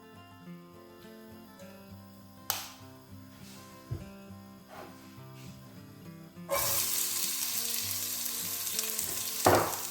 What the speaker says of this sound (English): we're going to cook our onions. So pan on, nice and hot, a little bit of oil.